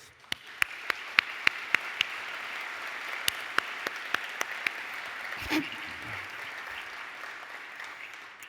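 Applause for the interpreters at a closing ceremony: a few sharp, isolated claps ring out first, then a soft, sustained round of clapping spreads through the hall, fairly distant.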